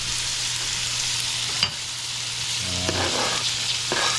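Onion and sweet pepper stir-frying for chow mein give a close, steady, loud sizzle that runs throughout, with a brief utensil knock partway through.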